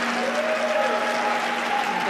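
A crowd applauding a delivery at a wheelchair curling mixed doubles match between China and Italy, steady clapping in the arena with a faint tonal hum underneath.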